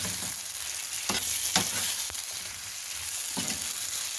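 Chicken fries in soy sauce, barbecue sauce and coriander in a pan, a continuous loud sizzle with a few sharp scraping stirs spaced through it and no voices.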